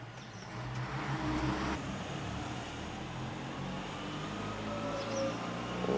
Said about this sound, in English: A couple of trucks coming from East Germany.